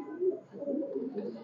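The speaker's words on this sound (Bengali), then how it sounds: "কবুতরটা ছাড়তেছি দেখা।" Pigeon being released by hand from a high-flyer pigeon loft, giving a few soft low coos and wing flutters, faint and close.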